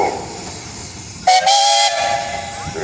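A 20 horsepower Advance Rumley steam engine blows its whistle in one loud, steady blast of about half a second, rising out of a hissing, rumbling background.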